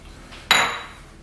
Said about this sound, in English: Dus ik pak die half bowl.